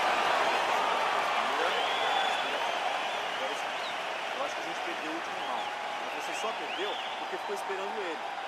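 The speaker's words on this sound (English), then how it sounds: "So the crowd voicing its appreciation after that round" Crowd cheering and applause in a UFC 4 fight video game, a broad, steady arena roar that stays fairly loud and sustained across the whole stretch, easing slightly in level toward the end.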